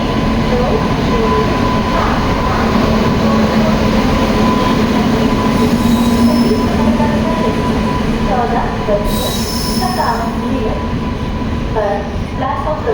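The 12618 Mangla Lakshadweep Express rolls into a platform at Shoranur Junction, a loud, steady rail rumble with wheels squealing toward the end, and faint voices in the background.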